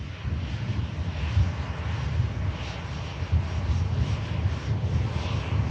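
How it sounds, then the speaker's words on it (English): An EasyJet airliner vacating runway 23 right at Manchester Airport gives a steady, broad engine roar at a middle distance, continuous and fairly even throughout. "EasyJet's just vacating on runway 23 right"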